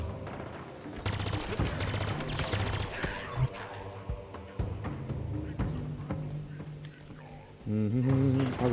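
Repeated bursts of automatic gunfire from a Halo Infinite weapon rattle in close, dense volleys over several seconds, with a heavier, louder blast near the end.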